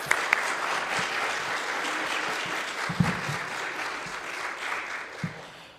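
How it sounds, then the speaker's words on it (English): An audience at a speech contest for 4th and 5th graders breaks into a sustained round of clapping, dense and steady for several seconds before tapering off slightly. "Let's give them one final round of applause."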